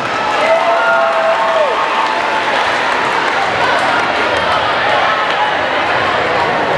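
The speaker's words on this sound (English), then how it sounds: "give yourself a round of applause" An audience at an outdoor Let's Move! event breaks into applause, a steady wash of clapping and crowd noise lasting several seconds, with a brief voice near the start.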